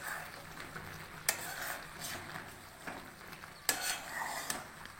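Thick jujube (kul) pickle being stirred in a pan, a soft scraping churn punctuated by two sharp clinks of the utensil against the pan, steady and close with no talk.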